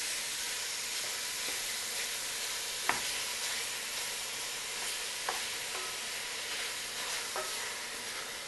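Meat browns in a hot pan with a constant, hissing sizzle, broken by a few sharp clicks of a utensil against the pan and no voices.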